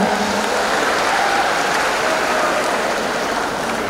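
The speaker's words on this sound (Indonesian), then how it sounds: "Boleh tepuk tangan untuk SMA Negeri 6 Palembang." Dense, sustained applause fills a hall at a new-student induction ceremony at SMA Negeri 6 Palembang, a steady, even crowd clapping without voices on top.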